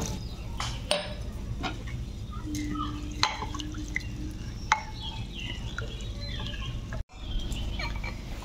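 Lentils are swished and rinsed in water, with soft drips, sloshing and small clinks up close over a low steady background hum.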